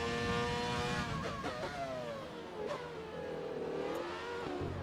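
A 1998 Formula 1 car engine in a racing video game screams at high revs, pitch climbing and dropping through gear changes, loud and close with no talk over it.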